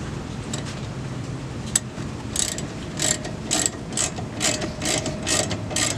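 A ratchet tightens a 14 mm brake bolt on a Nissan 240SX, producing a steady run of rhythmic, close clicking strokes over a constant background hiss. The clicking starts after a couple of quieter seconds.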